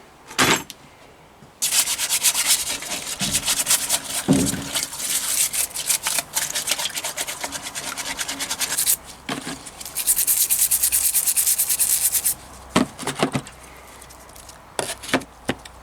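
Motorcycle brake calipers being scrubbed clean, with loud, rapid rubbing and brushing strokes in long bursts, separated by short pauses and a few sharp knocks.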